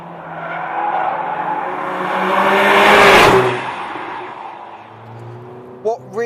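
A Mercedes A45 AMG driven fast on a track gives a loud engine roar that rises to a peak as it passes close by and then fades, with someone talking over it.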